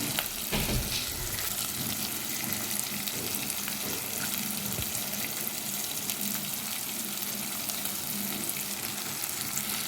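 Four or five spoonfuls of masala frying in a pan for an okra and prawn curry, a dense, constant sizzle close up with stirring scrapes and no talking.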